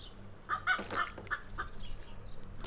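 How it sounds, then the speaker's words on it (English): Chickens cluck in a short run of several calls from a creekside camp in a remote area, the calls fairly close and clear over a low outdoor background hum. "his chickens are making a noise"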